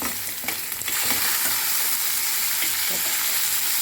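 Shallots, sesame, tamarind, dried chillies and tomato sizzle and fry in a pan for thuthuvalai chutney, a steady close crackling hiss with a few stirring knocks.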